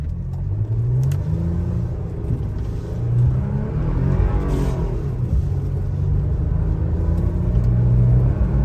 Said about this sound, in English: here's 0 to 60 in the snow with 4-wheel drive, power, in power mode, traction fully on.